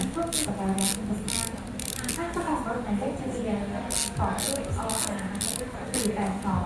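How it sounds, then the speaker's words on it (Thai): The film crank on a Rolleiflex SL66 camera is wound in repeated bursts of ratcheting clicks, close and distinct, while someone speaks softly over the mechanism. "ทำการโหลดฟิล์มก่อน โดยการหมุนตรงนี้นะคะ หมุนไปเรื่อยๆเลย จนกว่ามันจะ ล็อกนะคะ"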